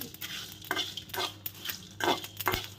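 Spices, including black pepper, dry-roasting in a pan for spicy chicken kanti while a utensil stirs them, with close scraping strokes in an uneven rhythm over a light sizzle and no talk.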